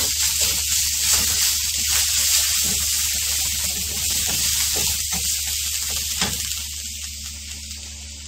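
Garlic-ginger paste roasting in about two teaspoons of oil, a steady close sizzling hiss with scattered crackles and pops, running continuously without talk.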